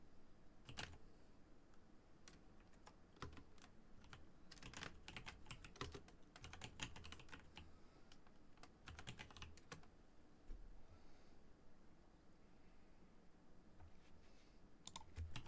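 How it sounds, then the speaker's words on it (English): Typing on a computer keyboard comes through as bursts of quick, light key clicks separated by short pauses, faint and close, with no talk. "I'm gonna type in this way."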